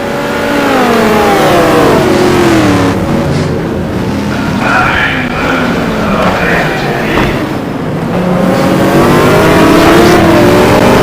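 A loud GT1 race car engine revs hard through a sustained stretch, its pitch sweeping up and down with gear changes, close and dominant throughout.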